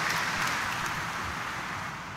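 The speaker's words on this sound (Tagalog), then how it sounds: "bigyan natin ng palakpak ng papuri at pasasalamat ang ating mahal na pong Jesus Nazareno, isang mas malakas na palakpak para sa Kanya" A church congregation applauds in a dense, steady wash of clapping that fills the space and eases slightly toward the end.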